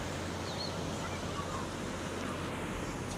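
Waterfalls and rivers along the Kedarnath trek path give a steady, broad rushing roar of water with a constant low rumble underneath, loud and unbroken throughout.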